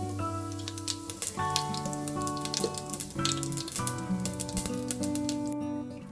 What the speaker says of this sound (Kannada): ಇವಾಗ ಸ್ವಲ್ಪ ಸಾಸಿವೆ ಹಾಕ್ಕೊಳ್ಳಿ, ಚಟಪಟ ಅಂತ ಇದೆ.